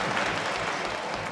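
A short burst of dense applause from a debate crowd, hands clapping steadily and loudly throughout with no speech over it.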